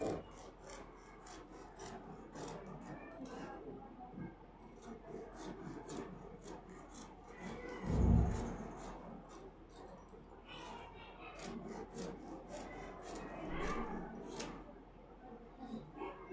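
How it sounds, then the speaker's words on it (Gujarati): Blouse fabric is cut close up, making a continuous rasping, rubbing scrape of blades on cloth with a louder thump partway through, with no clear talking. "ચાલો કટિંગ કરી નાખીએ"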